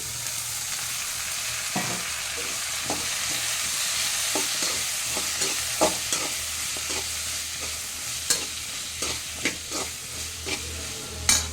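Raw mango and onions fry in a pan with a constant soft sizzle and hiss, broken by occasional sharper scrapes and taps of a stirring utensil, close and steady without speech.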